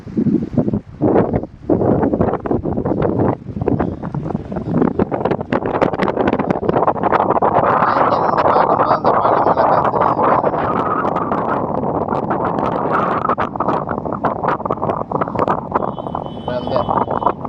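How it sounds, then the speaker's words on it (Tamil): Strong cold wind roars and buffets the microphone continuously at the Sangupiddy bridge in Jaffna, gusting louder midway, with a person speaking faintly underneath at the start. "இந்த இடத்துல அதிகமான காற்று, குளிர் காற்றும் வீசுது."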